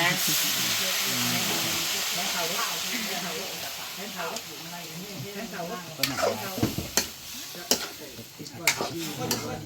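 Food that was boiled first is being fried and stirred in a pan, with steady sizzling and scraping stir strokes that grow into sharper clatters toward the end, while a voice talks over it.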